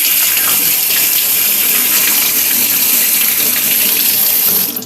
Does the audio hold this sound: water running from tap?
yes